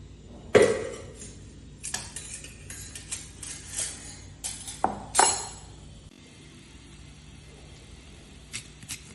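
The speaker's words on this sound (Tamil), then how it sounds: "இப்போ நம்ம வேற கிண்ணத்துல மாத்திரலாம்." Chocolate ice cream mixture scraped from one bowl into another, with a few sharp clinks and taps of utensil on bowl spread over several seconds, then quieter faint scraping and light knocks near the end.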